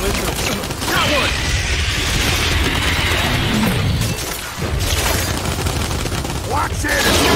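Bursts of gunfire from the Gears 5 video game rattle nearly nonstop at close range, with shouting players talking over the combat.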